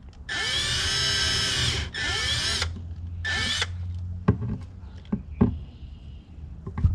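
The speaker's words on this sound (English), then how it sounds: "All I'm going to do is start drilling through a little bit" A power drill with a step bit whines loudly in three bursts of decreasing length while drilling holes, followed by a few sharp knocks and clatters of handling.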